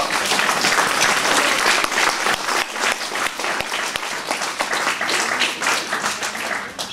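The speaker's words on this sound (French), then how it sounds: "vos applaudissements" Sustained applause from a large audience, many hands clapping in a thick, continuous roar that stays loud throughout.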